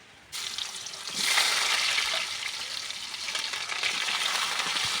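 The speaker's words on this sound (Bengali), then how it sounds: "এই তেলে পেঁয়াজ রসুন আদা দিয়ে দিচ্ছি" Onion, garlic and ginger sizzle in hot oil, a steady loud frying hiss that swells after a sudden start and continues throughout, with faint stirring and no voices.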